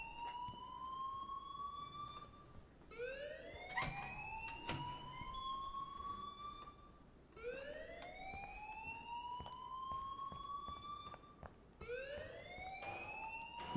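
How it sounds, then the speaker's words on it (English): Alarm ringing in Life is Strange, rising whooping siren-like tones that repeat every few seconds at a moderate level, with some clatter between sweeps. "please turn off that alarm since that's your job"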